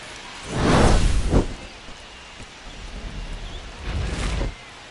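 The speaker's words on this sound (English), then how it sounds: "Well, Singy, we're getting some rain right now leading up to first pitch, but we're told it should pass through." Rain and thunder in the baseball video game MLB The Show 25, before a Mariners vs Yankees game: heavy rumbling thunder swells near the start and again toward the end over a steady hiss of falling rain.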